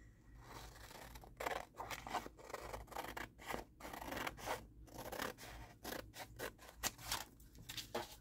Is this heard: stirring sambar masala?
no